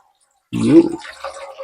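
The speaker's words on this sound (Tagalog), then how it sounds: "bali sasalang tayo ng tamang tubig" Purified water is poured into a pot, a short close splash and trickle that starts abruptly after a moment of silence.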